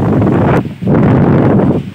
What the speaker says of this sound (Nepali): यस्तो त आज हावाहुरी